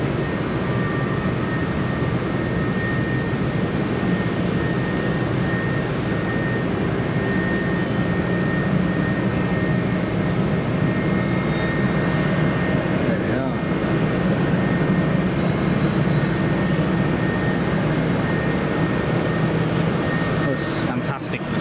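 A Turkish Airlines jet at Manchester Airport gives off a steady, loud engine roar that holds throughout with no clear rise or fade.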